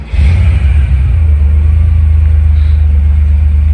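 A Porsche 911 fitted with a Strosek body kit idles with a loud, steady low rumble after starting, its engine note holding strong and close for several seconds.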